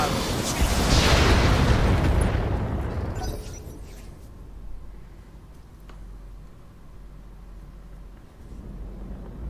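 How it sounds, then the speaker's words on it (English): Swarm missiles fired in the Roguetech mech video game, with a loud rushing roar of launches and blasts that fades into a low rumble and faint distant thuds. "I really love using these swarm missiles"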